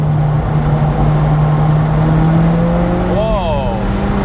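Alfa Romeo 4C Spider engine at full throttle: a loud, steady, droning mid-range engine note held throughout, rising in pitch near the end as an upshift sweeps through, with cabin noise constant underneath.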